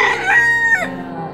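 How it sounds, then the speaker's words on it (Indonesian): A rooster crows once loudly and close, its rising then falling cock-a-doodle-doo call carrying alone with no voices over it. "ketika 3 kali Petrus menyangkal Yesus, ayam jago pun berkokok."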